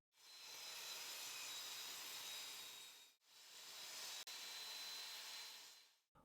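Wood being sawn to 6 by 17 centimeters for a small handmade gift, heard as two steady, hissing cutting passes of about three seconds each, separated by a short break and recorded fairly quietly.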